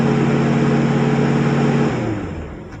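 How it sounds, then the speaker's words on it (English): A 1972 Chevy K10 pickup engine held at a steady raised rev with a strong low hum, then dropping back toward idle near the end, close and loud. "Revved up a little bit."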